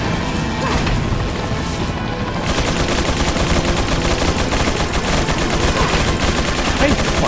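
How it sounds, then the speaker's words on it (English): Enemy gunfire in the survival-horror game Resident Evil 4, with loud, dense shots and crashing impacts running continuously throughout, up close. "Where is he shooting from?"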